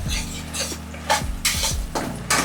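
Mustard paste being stirred in a pan of hot oil, with a few scraping, clinking utensil strokes against the pan over a steady low hum, close and moderately loud.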